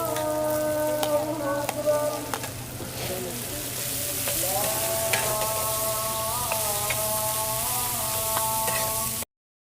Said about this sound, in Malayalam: അതിലേക്ക് സവാള ഇട്ട് കൊടുക്കാം.